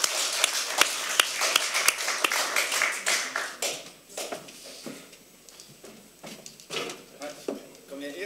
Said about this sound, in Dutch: Dames en heren, mag ik een applaus